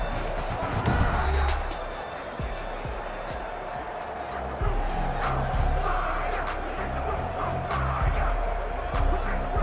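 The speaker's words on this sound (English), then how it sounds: "And this crowd loves it as their guys hold on the opening drive." A large stadium crowd roars in Madden NFL 21 as the home defense holds on an opening drive, with a steady, dense wash of cheering and a swell near the middle, continuing under the game sounds throughout.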